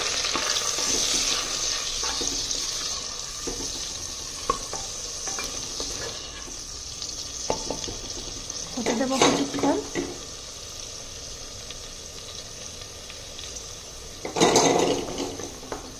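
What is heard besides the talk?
green chili, ginger and tomato paste frying in a clay pot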